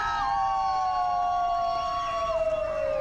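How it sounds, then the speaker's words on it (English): Softball fans at a state semifinal game let out a long, sustained wolf howl together, a drawn-out wavering cry that slowly falls in pitch over several seconds with no other talk. "the Phelps clan lets out the wolf howl"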